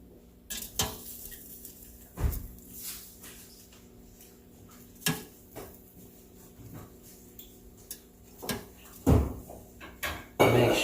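An air fryer basket is opened and set down, then shrimp go inside, giving scattered clinks and clunks of metal and plastic with quiet pauses between, one louder knock near the end.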